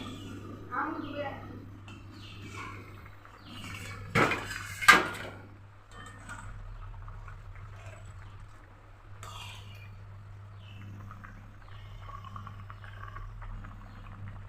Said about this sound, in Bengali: কিছুক্ষণ পর ঢাকা তুলে নিচ্ছি, দেখি ঝোলটা কেমন আছে।